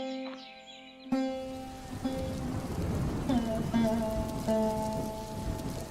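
Steady storm rain pours in a Hindi cartoon story, a dense hiss starting with a sudden swell, while tonal music and faint voices sit underneath.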